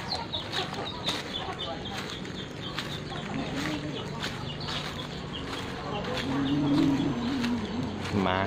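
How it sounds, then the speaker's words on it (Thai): Free-range chickens and chicks on a farm clucking and peeping continuously at moderate distance, with someone talking over them throughout. "ลูกไก่เขาเยอะจริงๆฮะ"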